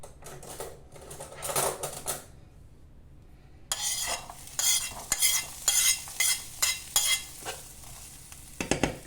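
Onion and garlic fry in hot oil in a pan, a close sizzle that pauses briefly before louder bursts of sizzling and rhythmic utensil scraping against the pan.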